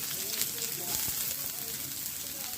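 Garlic browning in hot oil in a pan just before onions go in, giving a steady soft sizzle and crackle throughout, with a person talking over it.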